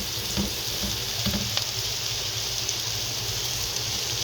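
Washed, salt-soaked cabbage wilts in a pan over sautéed spiced ingredients, with a constant loud hiss of frying and a few brief stirring knocks near the start.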